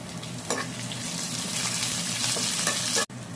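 Vegetables frying in oil for chicken fried rice hiss steadily up close, with a couple of faint stirring scrapes and an abrupt cut near the end.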